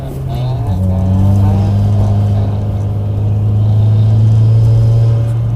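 A front-wheel-drive car racing around an ice track at an ice racing school, its engine droning loud and close with a steady, slightly rising pitch after a quick shift.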